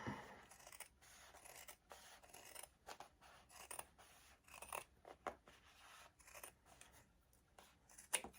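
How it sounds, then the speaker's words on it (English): Scissors cut through denim jeans at a hem mark, with repeated crisp snipping and rasping fabric scrapes in an uneven rhythm, close and quiet, with no talking. "I'm going to take and cut the pants at the first mark."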